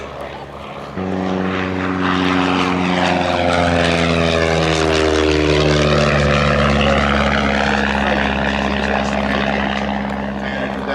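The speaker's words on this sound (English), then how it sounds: "not only did he fly this, the Havilland Chipmunk" A de Havilland Chipmunk's propeller engine drones loudly and steadily nearby, its harmonic hum sliding in pitch as the engine speed changes, with no pauses throughout.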